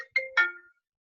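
A mobile phone's ringtone chimes in a quiet room: three quick bright melodic tones rising in sequence, the last ringing out briefly before silence.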